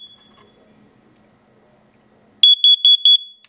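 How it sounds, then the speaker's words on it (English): A faint low murmur, then four loud, piercing high-pitched beeps in a quick, even rhythm from a First Alert digital display carbon monoxide alarm running its self-test close by. "It'll go through a series of beeps one more time."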